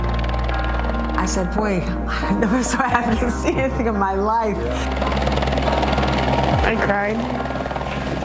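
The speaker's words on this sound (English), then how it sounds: "I saw the helicopter and I started crying." A helicopter's steady engine rumble and rotor drone run throughout while someone talks emotionally over it.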